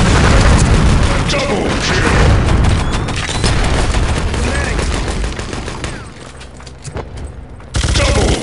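Dynamite blasts in Wolfenstein: Enemy Territory come as a loud, close booming roar mixed with gunfire that gradually fades, then returns in a sudden burst near the end. A voice speaks through part of it.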